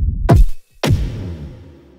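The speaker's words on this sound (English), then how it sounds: "dark kick drums" Two deep, dark kick drum samples hit one after the other with a short gap between them. Each is a heavy, booming thump that decays slowly, loud and alone.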